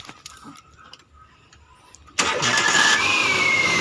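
A Hyundai Getz engine cranks and catches abruptly, then settles into a steady, loud idle close by after a quiet lead-in with faint ticking.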